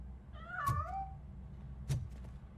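A cat hiding near a piano in the video game RoboCop Rogue City gives a wavering meow, then a second short, fainter meow, set against a quiet game ambience.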